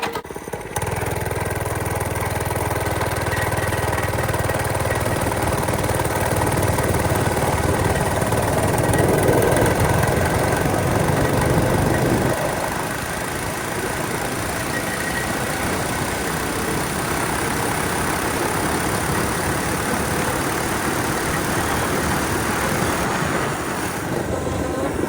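A Monster Moto go-kart with a swapped-in Tecumseh 6HP engine runs loud and continuously during a top-speed and acceleration run. Its droning tone shifts partway through as the engine note rises and roughens.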